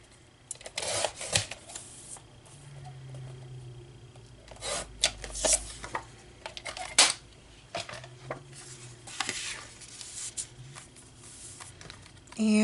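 A paper journaling card is cut down with scissors at close range, giving soft intermittent snips, rustles and paper handling sounds in short bursts over a quiet background.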